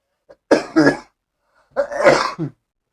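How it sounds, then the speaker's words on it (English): Two close, harsh coughs about a second apart, loud and near, with a brief quiet gap between them. "this cough needs to go away"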